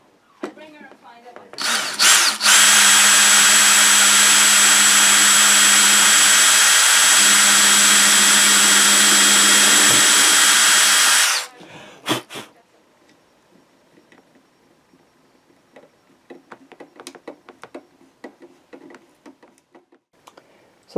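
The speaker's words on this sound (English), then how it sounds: "we can now drill our second 2 holes and secure them in place" A power drill bores screw holes for fitting a Gretsch Bigsby vibrato onto a guitar, one loud continuous whirring run of about nine seconds, followed by quieter clicks and handling noises.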